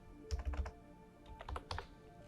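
Keys on a computer keyboard clatter in two short quick bursts of typing, close and crisp, with a pause between them while a spreadsheet sheet is renamed.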